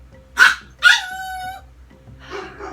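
Dogs bark indoors in two sharp, close barks, the second drawn out into a whining yelp, followed by a quieter grumbling vocalization.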